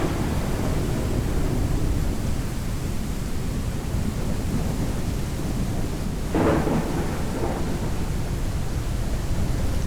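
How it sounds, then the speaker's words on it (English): Steady heavy rain hisses throughout a stormy video game planet scene in SpaceBourne 2, with a thunder crack and rumble rolling in near the middle, all without any talking. "it's got weather, it's rain and lightning"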